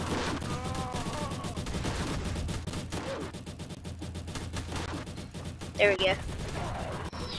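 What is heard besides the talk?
bomb explosion and gunfire in Roblox Tower Battles video game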